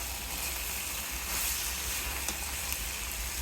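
Chicken meat fries in a small amount of oil for a home-cooked curry, giving a faint, steady, close-up sizzle with soft crackle and no voices.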